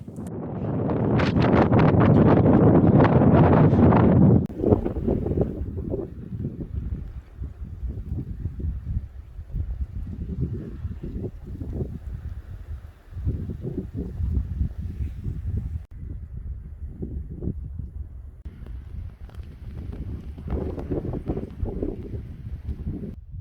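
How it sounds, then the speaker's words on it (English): Strong wind on an open hilltop in New Zealand's Aorangi Forest Park roars and buffets the microphone in a loud burst, then settles into gusty, rumbling blasts that rise and fall steadily. "boy, is it windy or what"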